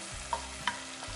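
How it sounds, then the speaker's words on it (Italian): Vegetables for a soffritto sautéing gently in a pan over low heat as the base for a beef and potato stew, a soft steady sizzle with two brief stirring scrapes, close and alone. "Ci mettiamo le verdure, quindi il nostro soffritto, le facciamo rosolare ben bene senza ovviamente bruciarle."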